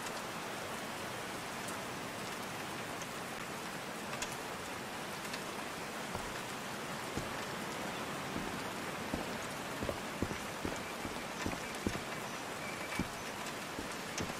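Steady rain pours down in the video game Call of the Sea, a dense, even hiss of drops with scattered sharper patters, continuous and unbroken throughout.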